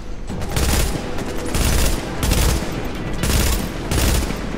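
High rate of fire gun shooting in a video game, long sustained bursts of rapid automatic fire in several waves, loud and close, with no talking.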